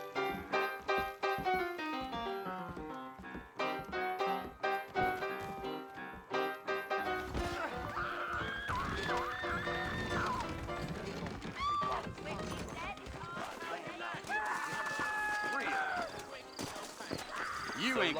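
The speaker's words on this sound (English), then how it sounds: "I got the horses saddled up and ready out front" Saddled horses in Red Dead Redemption clop steadily and whinny amid game music and character dialogue, with hoofbeats and neighs growing busier in the latter half.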